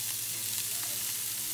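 Burger taco meat, laid meat side down on a hot grill, gives off a constant, even sizzle that stays close and fairly quiet for the whole short stretch.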